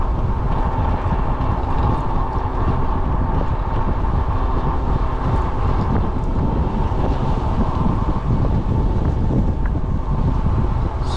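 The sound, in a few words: strong wind while cycling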